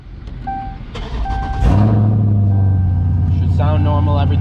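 A Dodge Charger with the 392 engine cranks with a few electronic chimes, then fires up around the middle and settles into a loud, steady, rumbling idle up close, with a voice speaking briefly over it.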